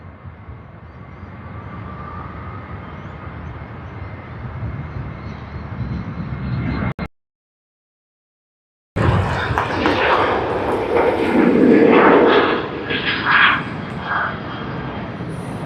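A Boeing 737 taking off from the far end of a runway at Sydney Airport, a broad, steady jet-engine roar that drops out into a brief silence midway, then returns louder and rumbling.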